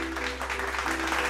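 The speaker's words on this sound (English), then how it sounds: "Please hold your applause." Audience applause at an award ceremony, a brief wash of steady clapping at moderate level with a faint hum beneath and no voices.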